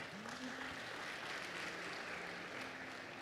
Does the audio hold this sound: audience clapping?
yes